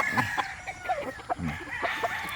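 A Boston Black gamecock stag clucking in short, close, irregular calls, with a faint murmur of farmyard noise behind.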